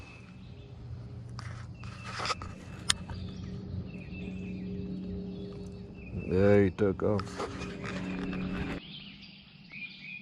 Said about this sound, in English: We have to take a minute to listen to the birds.